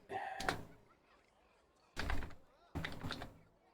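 Dice are rolled during a tabletop role-playing session, heard as three short clattering thuds spaced a second or so apart over quiet room tone.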